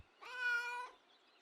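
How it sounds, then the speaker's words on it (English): A cat in the video game Kentucky Route Zero gives a single clear meow, close and alone in quiet. "Greeting meow."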